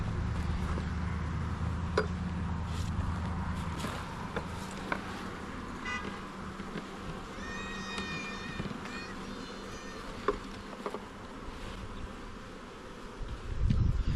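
Honeybees buzz and drone close by with intermittent clicks and taps, a constant hum filling the background throughout.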